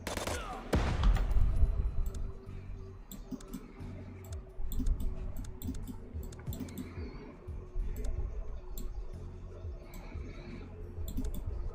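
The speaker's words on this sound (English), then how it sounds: "Flashbang out." A flashbang grenade goes off in a tactical shooter video game, with a loud burst near the start followed by softer clicks and scattered gunfire-like pops, under faint game ambience.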